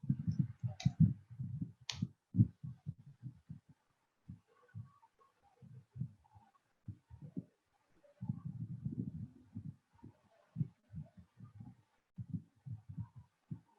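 Someone types on a computer keyboard in a series of muffled, dull keystroke clicks with short pauses between bursts, close and fairly quiet.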